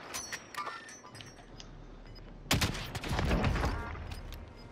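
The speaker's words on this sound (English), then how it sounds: "those people are getting shot at over across the way" Distant video game gunfire from a firefight across the way, scattered faint shots early, then a louder sharp volley and continued rattling bursts.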